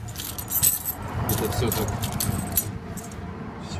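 A bunch of keys jangles loudly and close by in short metallic bursts beside a 2006 Mercedes-Benz Sprinter 316 cargo van, while someone talks over the sound.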